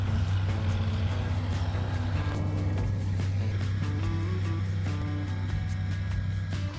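Steady low engine drone of a tractor pulling a moldboard plow, with a constant heavy rumble and faint mechanical rattling throughout, no talking.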